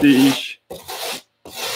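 Coarse 80-grit sandpaper rubbing over a 3D-printed part, three bursts of scratchy rasping separated by short pauses, close and fairly loud.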